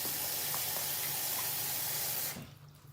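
Running tap water splashes over a turkey breast as it is rinsed under the faucet, a close, steady hiss and spatter that stops abruptly near the end, leaving a quiet room.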